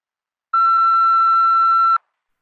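A single voicemail beep follows the greeting on a phone line, one steady pure tone lasting about a second and a half, loud and clean against silence on both sides.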